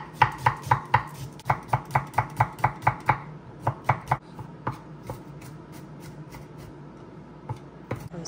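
A knife chops steadily on a cutting board, mincing shallots and garlic for Huế-style beef noodle soup, with quick, close, crisp strikes in bursts and brief pauses, then a few scattered taps.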